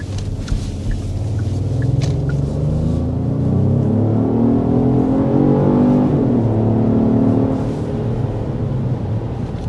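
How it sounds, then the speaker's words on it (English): A 2025 Genesis GV80 Coupe accelerating hard in sport mode, its engine note rising steadily in a loud continuous rumble that climbs in pitch, eases briefly around a shift, then holds strong. "that was an acceleration in the sport mode"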